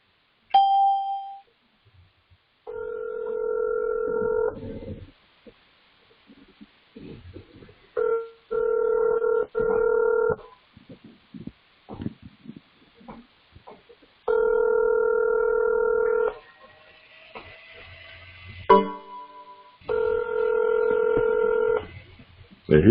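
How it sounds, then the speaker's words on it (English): A telephone dials a number, sending bursts of steady touch tones in several separate groups with short gaps and clicks between them, loud and close. "calling for Charles King."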